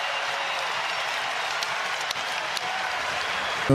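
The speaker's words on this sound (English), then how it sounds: "And listen to this crowd." A basketball arena crowd at an Alabama college game roars in a steady, loud wall of cheering and applause that holds for several seconds, with a few sharp claps and shouts poking through.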